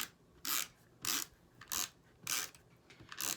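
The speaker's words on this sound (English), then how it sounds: "I'm going to use my snail adhesive and put my layers together for my card" Snail adhesive tape rolled onto layered cardstock for a handmade card, heard as about six short, crisp rasping strokes in a steady rhythm with brief pauses between them, close up and quiet.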